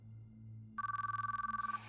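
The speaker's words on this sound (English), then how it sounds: "Each time I finished watching the video, I called her phone, but she never answered." A phone rings in the Chaos;Child visual novel game, a rapid electronic trill pulsing about fifteen times after a quiet stretch of low background music, clear and close.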